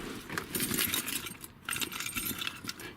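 Duplicate car keys for a 2004 Toyota jangling close up, continuous metallic clinks and rattles with a short pause midway, no voices.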